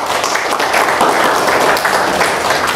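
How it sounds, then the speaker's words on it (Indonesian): Audience applause rising at a religious talk on back-massage therapy, a dense steady wash of many hands clapping that fills the whole stretch, close and loud, with no voice over it. "berikan aplaus untuk"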